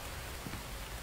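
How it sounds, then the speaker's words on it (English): Rain falls in a video game during a survival-base scene, a steady dense patter of drops heard alone for about a second. "I know it's raining."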